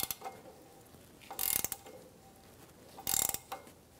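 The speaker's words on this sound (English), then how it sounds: "Torque these bolts to 46 foot-pounds." A ratchet wrench clicks on catalytic converter bolts of a 2003-2007 Infiniti G35, in two short, close bursts of rapid ratcheting separated by quiet pauses.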